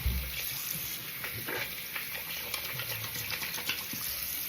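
A tap runs steadily into a sink while hands are wetted before applying a black charcoal face mask, giving a close, constant hiss of flowing water with small splashes.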